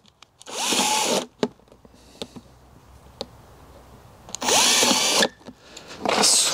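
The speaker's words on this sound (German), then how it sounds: "Dann werden hier nochmal zwei Löcher gebohrt." A power drill bores holes into a plastic bucket being made into a self-watering planter, running in three loud, steady bursts separated by quiet pauses with scattered clicks.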